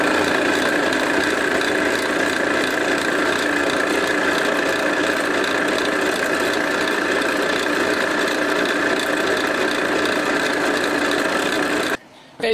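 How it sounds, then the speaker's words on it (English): A drill grinds steadily into hard-to-drill wood for a ferro rod handle, a harsh continuous whirring with rough rubbing texture, running nonstop before stopping abruptly at the end. "This is difficult to drill"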